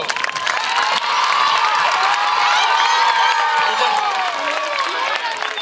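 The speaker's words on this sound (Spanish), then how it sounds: "Muy bien, fuerte aplauso." Schoolchildren at a school event cheering and applauding, a loud sustained crowd roar with shouts, whoops and clapping throughout.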